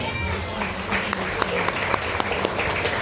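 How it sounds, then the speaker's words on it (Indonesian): Audience applause fills a school hall during a junior high school quiz competition semifinal, a dense steady patter of many hands with a few sharper claps standing out, moderately loud with a murmuring crowd underneath. "Mana tepuk tangannya untuk semua grup?"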